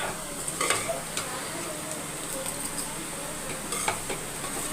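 A spoon stirs and scrapes tamarind rice around a pan in a few quick, close strokes over a faint, steady sizzle, with no one talking.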